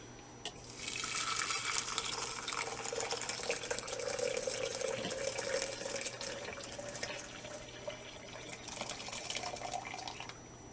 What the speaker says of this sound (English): Now we're going to pour some very hot water, almost boiling over it.